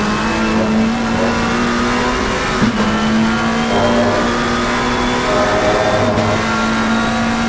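McLaren GT3 race cars circle Imola in a racing video game, a steady loud engine drone with shifting pitch and brief gear-change breaks, and no talk over it.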